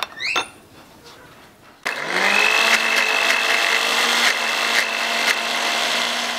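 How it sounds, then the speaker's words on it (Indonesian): A blender whirs steadily as it grinds a Balinese satay spice paste with shrimp paste, starting up abruptly after a few brief clinks and holding a loud, even motor drone to the end. "Jangan lupa tambahin terasi. Habis ini kita blender lagi."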